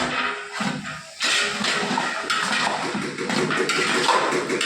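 Radish, chayote, carrot, beans and cluster beans stirred in a pot for sambar rice, with scraping and clattering of the spoon against the vessel, close and fairly steady.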